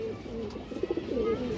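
Pigeon cooing close by, a short soft low burbling coo in the middle of a brief quiet stretch over faint background hum.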